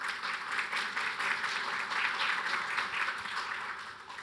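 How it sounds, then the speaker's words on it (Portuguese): An audience at a panel session applauds a journalist being introduced, a steady wash of dense clapping from a crowd in a hall, moderately distant and even throughout. "Uma salva de palmas"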